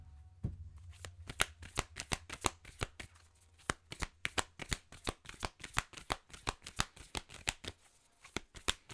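Tarot cards are shuffled in a fast, crisp riffle of repeated snaps that run steadily and close up for several seconds, with no talking over them.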